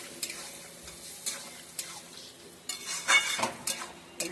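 A spoon stirs poppy seed paste in a pan in a string of separate scraping strokes over a quiet, low sizzle, nearby and with no talk.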